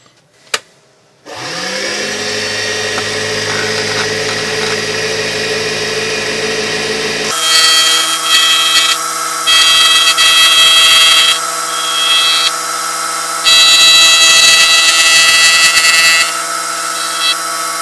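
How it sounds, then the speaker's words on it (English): A wood lathe fitted with a PSI duplicator jig starts with a sharp click and spins up to a steady whine, then a tool cuts wood to a template in repeated harsh, buzzing passes over the motor hum. "I'll set my depths for a deeper cut and then keep going until I've got everything cut down to the shape of the template"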